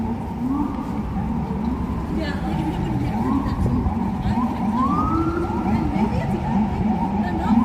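A police siren from undercover police cars in New York City wails with rising and falling sweeps over steady traffic rumble, fairly close and continuous throughout.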